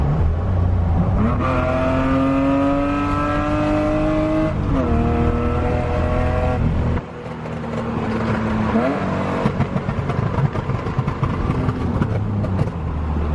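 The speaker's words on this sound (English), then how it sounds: "Rev it to the moon." A BMW 318ti engine revs hard up and down close by, its pitch climbing and falling in long sweeps, then turns rougher and burbling with sharp crackles toward the end.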